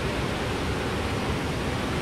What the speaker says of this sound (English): Yeah, that water's loud.